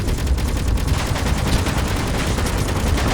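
Rapid turret gunfire in the Space Engineers video game, a dense continuous burst of overlapping shots, loud and close with no talk.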